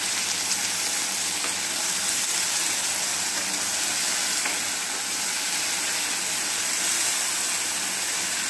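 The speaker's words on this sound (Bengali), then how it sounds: "এই যে এবার এটা নাড়াচাড়া করে নিই।" Peanuts and pointed gourd frying in a pan and being stirred, a loud, steady, dense sizzle held evenly throughout without a break, with no voices.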